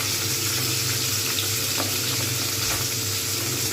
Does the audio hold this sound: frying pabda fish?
yes